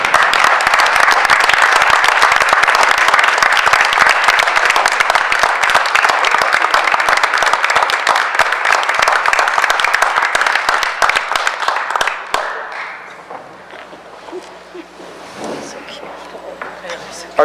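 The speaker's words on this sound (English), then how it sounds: "let's give Benjamin a big round of applause on a job well done" Crowd applause at a school board meeting, loud and sustained clapping for a student that thins out and fades after about twelve seconds, leaving quiet room noise and a few scattered claps.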